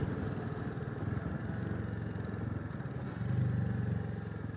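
Royal Enfield Classic 350 motorcycle engine idling, a steady low rumbling putter heard close with slight clatter and no speech.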